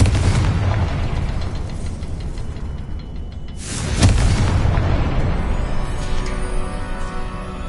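A Confringo fire spell explodes in the Hogwarts Legacy video game with a loud booming blast around the middle, set within continuous rumbling combat noise and fading fiery crackle afterward.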